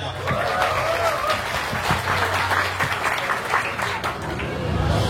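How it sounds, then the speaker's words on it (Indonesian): Audience applause and scattered claps at a casual coffee-chat gathering, a lively crowd clapping under faint chatter and murmurs, fairly close and steady through the stretch. "Tepuk tangan buat kalian semua"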